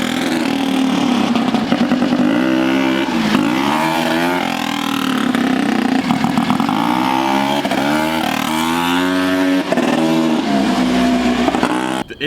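A turbocharged, rotary-swapped ATV engine revs hard and continuously during a wheelie, a loud, close, buzzing roar that rises and falls in pitch with the throttle and runs without talk.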